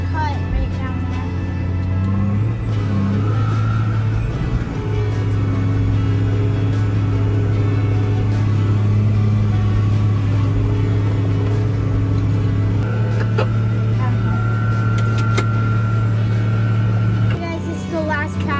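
A truck drives across a farm field during corn harvest, its steady low engine drone loud and continuous throughout, with faint higher machinery whine layered above.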